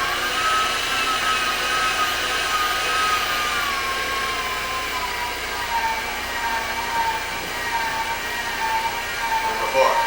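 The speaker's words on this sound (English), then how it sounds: "I'm going to be grinding that with using a 1/8 plate" An electric meat grinder fitted with a 1/8-inch plate runs while grinding for a smoked shrimp and cheese sausage: a loud, steady motor whine and drone, unbroken throughout.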